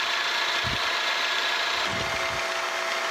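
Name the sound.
metal planer making a cut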